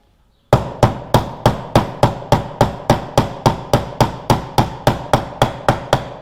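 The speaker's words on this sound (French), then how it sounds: "on tape tout doucement sur l'intérieur du roulement, pas sur le plastique." The inside of a bearing on a Solex 3800 moped engine is tapped gently, a steady run of about twenty crisp, evenly spaced metallic knocks, close and clear with no talking.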